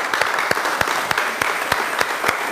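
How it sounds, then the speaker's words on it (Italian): A short burst of applause from a crowd, with loud, rapid claps. "un bel applauso"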